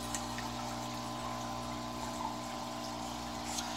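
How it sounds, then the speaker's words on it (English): Aquarium air bubblers run in water-filled jars holding angelfish eggs, giving a quiet steady bubbling and gurgle over a constant low pump hum. "Add in our bubblers just to keep an air current going."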